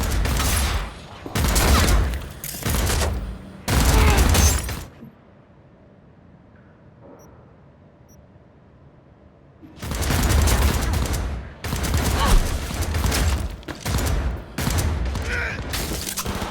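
Bursts of rapid automatic gunfire in the video game Cyberpunk, loud and close in several volleys, broken by a quiet stretch of several seconds before heavy firing resumes.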